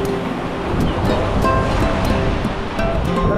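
Ocean waves crash and wash against a rocky shore, making a loud, continuous roar of surf with wind noise mixed in and no speech.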